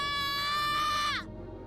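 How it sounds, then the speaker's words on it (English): A character's strange, high wavering scream in the visual novel Remember11, one sustained cry of about a second that slides downward and cuts off abruptly. "Uni lets out a strange scream and rushes out of his bed."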